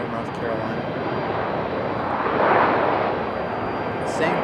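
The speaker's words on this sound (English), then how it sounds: "Got an A319 touching down." An Airbus A319 touches down at Raleigh-Durham International, a broad steady engine roar that swells briefly in the middle and then settles, heard from a distance with a voice talking over it.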